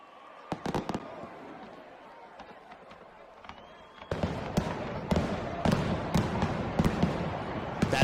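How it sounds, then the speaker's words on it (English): Fireworks at a Phillies vs. Nationals baseball game: sharp booming bursts crackle repeatedly, sparse at first, then a dense, louder barrage of explosions over crowd noise in the second half. "No, the fireworks are this."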